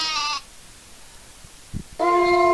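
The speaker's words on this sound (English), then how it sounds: "sheep" Two sheep bleats, loud and close, one opening the clip and another closing it, with a quiet gap between them.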